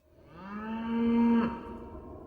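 A single cow gives one long, rising and falling moo at moderate distance, clear and alone with no other sounds around it.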